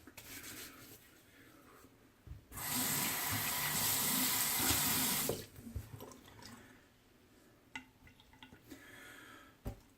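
Tap water runs for a few seconds while a straight razor is rinsed at a sink, a steady close splashing rush that stops abruptly, followed by faint clinks and drips.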